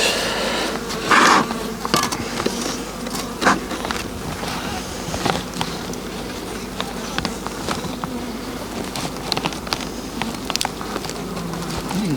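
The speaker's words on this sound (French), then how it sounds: "Je fais attention de ne pas écraser l'abeille" Honey bees buzzing around an open beehive outdoors on a windy day while a beekeeper handles the frames, a steady close hum with scattered scrapes and taps.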